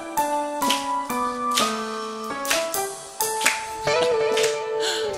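A parish congregation at Cheolsan 3-dong Catholic church claps along to a sung cartoon-theme medley. Sharp, steady claps sound in time under loud music and singing.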